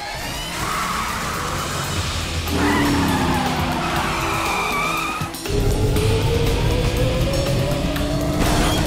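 A cartoon car speeds off with tires squealing and skidding, engine revving loudly in rising sweeps, a sharp screech cutting in midway before the engine surges again.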